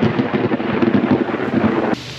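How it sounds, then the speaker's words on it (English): A deep, rumbling roll of thunder from a storm over farmland rolls on for a couple of seconds, then cuts to a quieter background hiss. "there's a thunderstorm right in front of us here"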